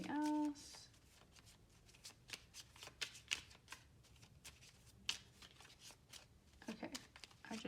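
Tarot cards are shuffled by hand in a quiet room, a close run of quick papery riffles and soft slaps, irregular in rhythm and faint, after a brief tone at the start.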